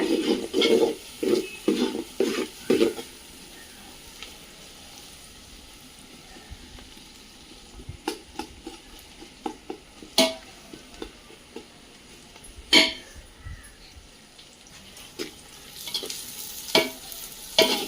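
Onions sautéing for mutton biryani in a pot over a wood fire outdoors in a village-style parking lot, with a steady sizzle and repeated scraping stirs of a ladle, close and loud.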